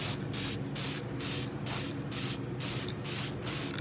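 Red spray paint is sprayed onto car wheel rims in about eight short, hissing bursts separated by brief pauses, loud and close with no talking.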